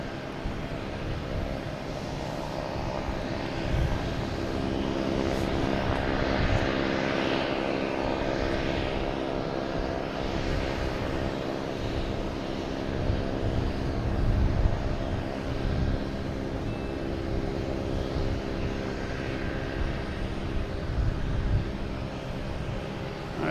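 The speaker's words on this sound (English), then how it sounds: "Next to arrive, we have a JetBlue coming from Cancun," A JetBlue Airbus A321 jet arriving at Boston Logan Airport after a flight from Cancun, its engines making a steady, loud broadband roar that swells and holds through the whole stretch, with no talking.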